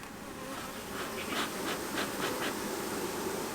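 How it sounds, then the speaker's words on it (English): Honey bees hum steadily around an inspected package hive, a close, continuous drone with faint individual buzzes rising and fading over it, no voices. "Well, there's a few bees in there."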